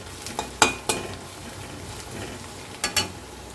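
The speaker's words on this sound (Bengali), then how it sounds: "রসুনটাকে তিরিশ সেকেন্ডের মতো নেড়ে চেড়ে নেবো" A spoon clinks and scrapes against a pan while grated garlic fries faintly underneath, a few sharp taps spaced irregularly, with no talking.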